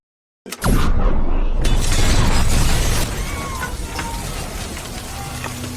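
A sudden loud blast bursts in after a short silence, followed by crackling, shattering debris and a lingering rumble that slowly fades.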